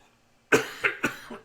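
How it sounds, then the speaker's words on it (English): A burst of four quick, harsh smoker's coughs close to the mic after a moment of near silence, each fainter than the first. "this cough is so damn annoying"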